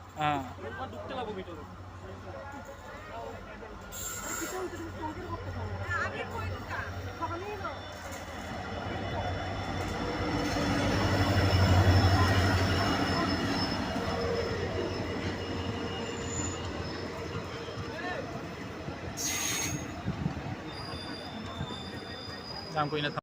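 Inside a passenger train on the rails near Agartala, wheels rumble continuously with rattling and faint squeals, swelling louder midway, while a person talks over the noise throughout.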